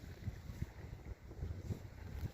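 Rough wind gusts over a whitecapped lake buffet the microphone from a kayak during a bass tournament. Low rumbling blasts rise and fall with no speech.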